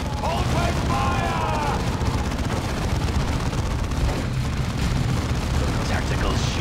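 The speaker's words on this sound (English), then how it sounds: "All guns, open fire!" Dawn of War 2 battle: a dense, continuous roar of gunfire and artillery blasts from the video game, loud and unbroken, with voices speaking over it.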